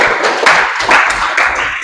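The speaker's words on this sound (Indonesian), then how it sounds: "Tepuk tangan" Group applause in a classroom physical education lesson, steady clapping from several people for under two seconds at fairly close range, with no talk over it.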